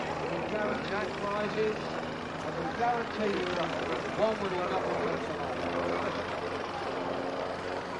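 A turboprop aircraft flying past at an airshow gives a steady drone that rumbles through the whole stretch, fairly loud and constant, with a crowd murmuring and a voice talking over it.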